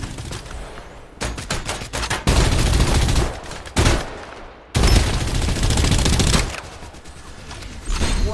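Loud, close automatic gunfire from the Farlight 84 battle royale game, long sustained bursts of rapid shots broken by short pauses and abrupt stops, with no voices.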